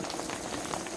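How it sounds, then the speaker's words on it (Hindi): Raindrops patter steadily on a surface, a dense close-up hiss of many small drops filling the whole second, fairly quiet and with no voices. "बारिश की बूंदें"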